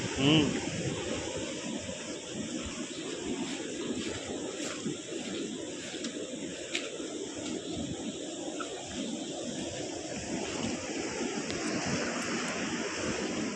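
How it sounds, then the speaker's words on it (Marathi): Light drizzle falls beside a river during a crab and fish catching outing, a steady, even hiss of rain and open-air noise that fills the whole stretch without a break. "पाऊस पण चालू झाला आहे बारीक बारीक"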